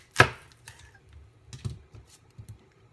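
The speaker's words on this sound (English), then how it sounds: "We're going to cut into this onion in half." A Wusthof knife cuts an onion in half with one sharp crunching chop near the start, followed by a few softer knocks and taps on the board.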